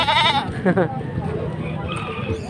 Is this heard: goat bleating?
yes